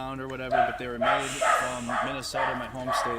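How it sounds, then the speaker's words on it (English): A dog barks and yips repeatedly in short, whiny bursts close by, with a person talking over it. "do you hear my stupid dog barking?"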